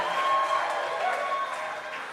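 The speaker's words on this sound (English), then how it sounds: "Can we get a round of applause for our painters one more time" Audience applause for live painters at a Toronto event, a dense, steady wash of clapping and crowd noise lasting a couple of seconds, fairly loud throughout with a few thin tonal squeaks above it.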